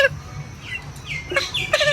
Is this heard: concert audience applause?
no